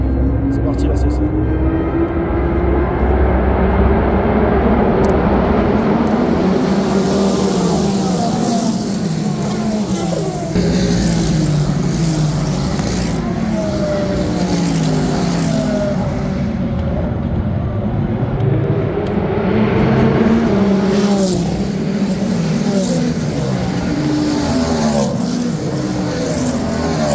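Ferrari V12 race cars roar past on track, engines rising and falling in pitch as they accelerate and pass, with a continuous loud blur of racing engine noise and a commentator talking over it.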